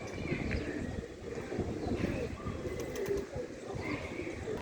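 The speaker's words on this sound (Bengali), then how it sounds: "পায়রা" Pigeons coo in an enclosed loft: low, soft, overlapping burbling coos continue throughout at moderate level, with a faint airy background.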